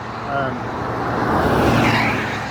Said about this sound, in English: Traffic isn't exactly light on the road